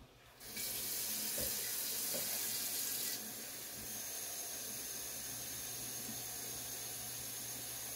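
Water gushes steadily from a tap into a pot, a loud, close hissing splash that settles slightly softer after a few seconds and runs on continuously.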